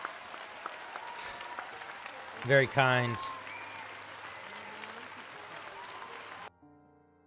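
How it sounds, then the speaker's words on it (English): Applause for a new homebrew club member, a steady patter of clapping under spoken voices with a louder burst of speech midway before it cuts off. "Let's give them a round of applause"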